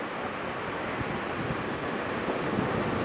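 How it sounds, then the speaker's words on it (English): Ocean surf rolls in as a constant broadband wash for a yoga class's relaxation, steady and fairly close with no voices, the roar holding even without distinct breaking crests. "Listen to the sound of the ocean and the sound of your breath."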